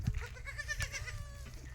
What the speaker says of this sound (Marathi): आपली शेळी वेलेली आहे हे बघा पाठबोकूड दिलेला आहे